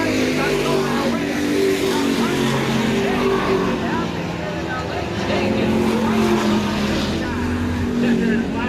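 Race cars roar around the track at the finish of an auto race, producing a dense, continuous engine drone with rising and falling whines as cars pass, loud and sustained under crowd and announcer noise.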